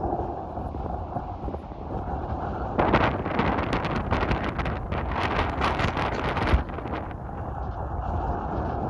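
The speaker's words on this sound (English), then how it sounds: "it's windy." Strong wind in Western Australia buffets the microphone in continuous rumbling gusts, with louder rushes in the middle and no voices.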